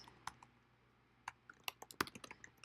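Someone types a street address on a computer keyboard: a quiet, uneven run of crisp key clicks, sparse at first, then quickening into a denser cluster, with no voices.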